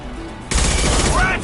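Rifle gunfire from the video game Mass Effect 2 bursts in loudly and abruptly after a short lull, ringing out in a dense rattle that keeps going to the end, with faint talk underneath.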